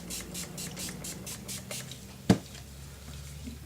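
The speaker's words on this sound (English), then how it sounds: "so let's spray them out" Quick hissing bursts of coloured ink mist spray out in a steady series from a small craft sprayer, followed by a single sharp tap and quieter handling sounds.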